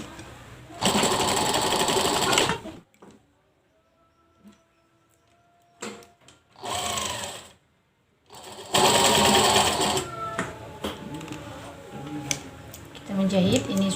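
A sewing machine stitches a toddler's garment pattern in several loud bursts of rapid mechanical whirring, separated by quiet pauses filled with faint clicks and handling of fabric.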